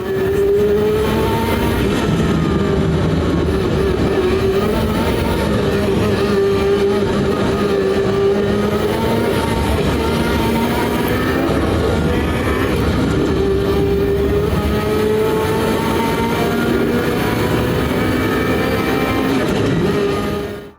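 A race car engine in the sim game Assetto Corsa EVO, played through speakers on a motion rig, roars continuously and loudly for about twenty seconds, its pitch rising and falling through gear changes.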